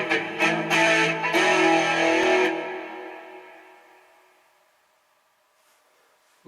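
An electric guitar plays chords drenched in springy reverb from a Digitech RP90/RP70 multi-effects processor imitating a Fender Twin Reverb, then the sound rings out and decays slowly into silence.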